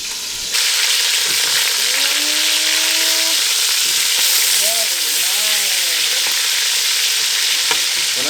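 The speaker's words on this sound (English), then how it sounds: "You hear that sizzling?" Guanciale sears in a pan with a loud, constant, close hiss and crackle of frying fat, while voices briefly talk over the sizzle.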